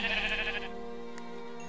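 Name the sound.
sheep bleating in the video game Minecraft (Tekkit)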